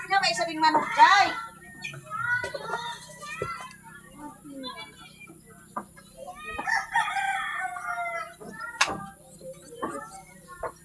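A rooster crows close by at the start, followed by people chatting and scattered thumps, with a constant low hum in the background.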